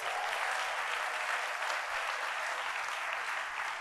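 Steady, dense applause from a large audience of school staff at a back-to-school address, filling the whole stretch at an even level with no voices standing out.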